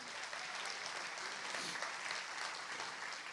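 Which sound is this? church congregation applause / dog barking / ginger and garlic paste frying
church congregation applause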